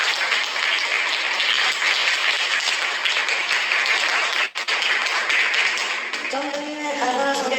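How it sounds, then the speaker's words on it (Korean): Audience applause welcoming reporter Kang Chung at a public talk; sustained, even clapping runs throughout, with a short break midway and a voice entering near the end. "강충 기자 선생님 박수로 맞이해주십시오"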